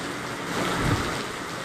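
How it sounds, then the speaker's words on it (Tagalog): Heavy southwest monsoon rain driven by strong wind, a steady broadband wash of downpour and gusts that swells slightly midway, with no voices. "ang pagbuhos ng malaking ulan na ito, ng malakas na ulan na may kasamang hangin, ay dulot po ng habagat"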